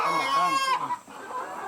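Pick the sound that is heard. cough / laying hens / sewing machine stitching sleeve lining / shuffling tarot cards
laying hens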